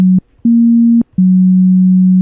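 A Craft Synth 2.0 synthesizer plays its initialized preset, a plain, pure-sounding low tone triggered three times, with short gaps between notes and a clicky attack on each, loud and alone.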